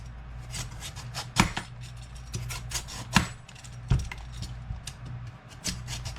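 A whole vegetable being peeled for an Indian-inspired veggie roast, giving repeated short scraping strokes in an irregular rhythm, close and fairly crisp, with a quiet hum underneath.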